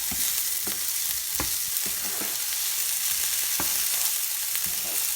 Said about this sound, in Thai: เขาจะค่อยๆผัดให้ ให้ฮอทดอกเขา เออ ร้อนนะคะ